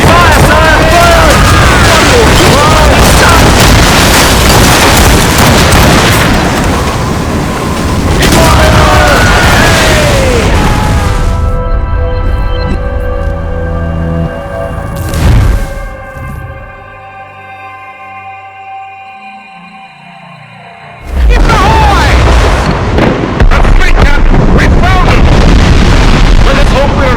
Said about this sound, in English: Ready to fire, sir! Fire!